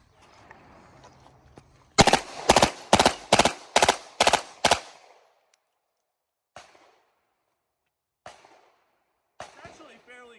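Beretta M93R machine pistol fired one-handed at 5 yards: seven sharp, loud shots in rapid succession, followed by quiet pauses with a few faint clicks and brief talk.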